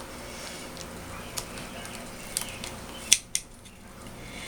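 Scissors cut through a plastic resin mixing spoon in a few separate crisp snips, the sharpest two coming close together near the end, against a quiet room background.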